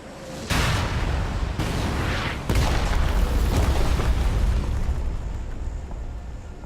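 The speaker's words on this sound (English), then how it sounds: "Constantly, loud sirens and loud bomb noises occupy the sound table of the map as buildings are blasted to oblivion" Bomb blasts in the mobile battle-royale game PUBG Mobile, as buildings are destroyed: a sudden loud boom followed by rolling, rumbling explosions that keep going and slowly fade.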